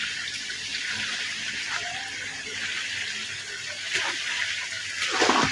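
Water pours steadily from a tap into a bathing area, a continuous hiss with splashing that swells near the end, and a few voices talk over it.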